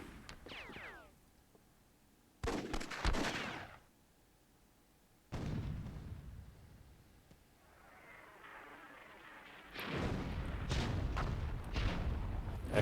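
Explosive blasts from a grenade throw and an RPG shot in the WWII strategy game Myth II: Soulblighter, several loud broadband bursts separated by quieter gaps, the last one a longer rumbling roar.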